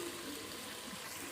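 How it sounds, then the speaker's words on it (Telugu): Water poured from a vessel into a pot of simmering chicken curry, a steady splashing gush lasting just over a second, close and fairly loud, ending abruptly. "వాటర్ పోసేద్దాం"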